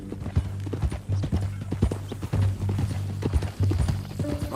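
Horse hooves in Red Dead Redemption 2 make a steady, close clip-clop at a walking pace, with a brief whinny mixed in.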